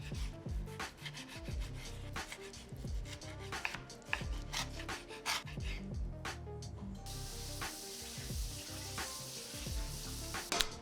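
Bacon fries in a pan with a steady, dense crackling sizzle, close and moderately quiet, with scraping and shifting sounds running throughout.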